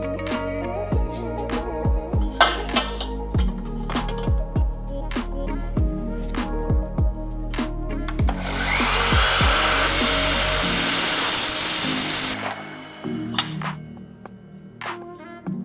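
Hand saw with an old blade cutting through a roller blind tube, a run of quick rhythmic rasping strokes giving way to a sustained harsh grinding cut, close and loud, then tapering off near the end.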